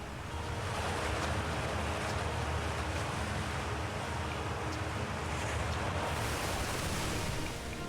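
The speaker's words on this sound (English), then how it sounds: "this water is loud" Loud rushing water roars without a break in the video game Outer Wilds, a dense, steady wash of noise that fills the whole stretch with no speech.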